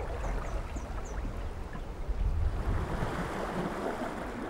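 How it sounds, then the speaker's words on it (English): The mighty Zambezi river in southern Africa flowing powerfully, a steady loud rush of water with wind buffeting the microphone, continuous and close, with a few faint bird chirps high above. "the mighty Zambezi is flowing powerfully, bringing water to the plains of southern Africa"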